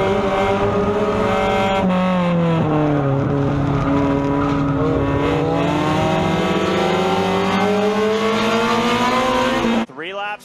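Race cars at Irwindale Speedway roar continuously, engines droning and shifting pitch as they circle the oval, loud and close throughout until a sudden cut at the end.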